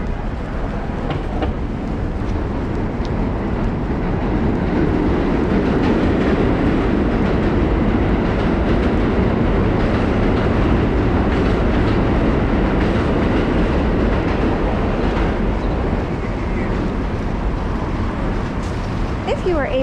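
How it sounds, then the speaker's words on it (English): Beneath street grates in New York City, a subway train rumbles and clatters loudly and continuously, with wheels clacking on the rails and traffic noise from the street above. "I'm walking over grates and this subway is beneath."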